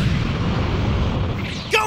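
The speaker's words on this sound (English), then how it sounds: "Special beam cannon!" A Special Beam Cannon blast in the Dragon Ball Sparking Zero video game, a loud sustained roaring rush of energy that holds steady, then ends with a brief rising zap.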